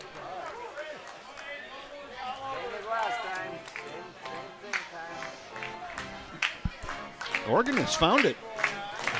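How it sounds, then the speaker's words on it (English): A lone spectator claps along with the organ at a regional amateur baseball game, River Falls Fighting Fish versus the Cadott Red Sox: faint, evenly spaced claps sit far off beneath a play-by-play commentator talking over the crowd. "Somebody's clapping along out there"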